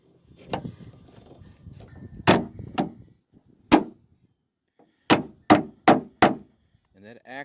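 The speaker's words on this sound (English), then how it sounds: "when I use the hammer, actually knocked the retainer clip into position" Sharp hammer blows knock a car trunk lid strut retainer clip into position against metal, about eight irregular strikes with pauses between, close and loud, some in a quick cluster.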